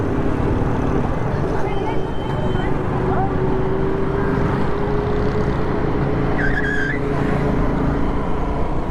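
Cars and motorbikes rumble along a busy Karachi coastal road, with engines close by in a dense, continuous roar and a passing horn blast, while voices talk beneath the traffic.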